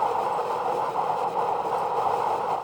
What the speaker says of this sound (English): That's just the cello, and then the skateboard wheels